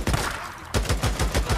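Rapid bursts of gunfire in the Days Gone video game, a quick volley, a brief pause, then a steady rhythmic string of close, loud shots.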